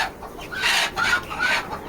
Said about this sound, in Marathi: आता ही कोंबडी बघा किती हालते त्यासाठी पकडून ठेवायचं व्यवस्थित